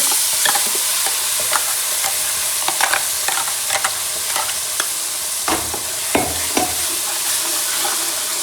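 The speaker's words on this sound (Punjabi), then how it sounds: "ਹੁਣ ਗਰਮ ਹੋ ਗਿਆ ਤੇਲ ਤੇ ਆਪਾਂ ਪੇਸਟ ਪਾ ਦਨੇ ਵਿੱਚ" Spice paste for a vegetable curry sizzles in hot oil, a loud continuous hiss of frying with scattered ladle scrapes and taps against the pan, close and without talk.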